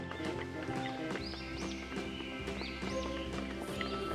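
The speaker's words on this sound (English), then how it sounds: "H for horse. H for horse." A horse clip-clops steadily with a few whinnies over bright, tonal nursery-rhyme music in a children's ABC phonics song. The hooves and neighs stay close and clear throughout, with no speech.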